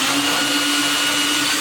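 A power tool drives a screw home while a Mainstays flat-pack furniture piece is assembled, giving a steady, moderately quiet motor whine with a constant pitch and no pauses.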